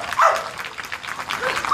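A police working dog at a canine unit demonstration gives one sharp, loud bark, followed by fainter yips and whines nearby.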